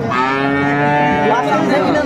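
Dairy cattle lowing at the Aftabganj cattle market in Dinajpur: a loud, close, drawn-out moo that shifts in pitch partway through, with a second call overlapping at the end.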